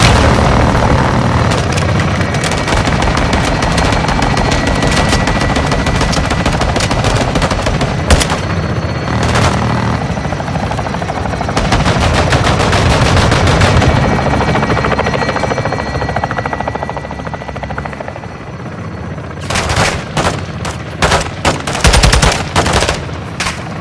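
Heavy helicopter rotor drone under sustained rapid machine-gun bursts and booming impacts as air support fires during an assault on a Shadow Co. compound in Call of Duty Modern Warfare 2, loud and continuous with dense volleys near the end.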